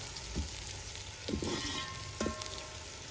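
Onions browning in hot oil for pulao in a village kitchen give a soft continuous sizzle, with a few short stirring scrapes cutting through at intervals.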